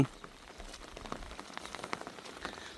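Rain patters steadily on a surface, with scattered drips and taps over a soft, continuous hiss.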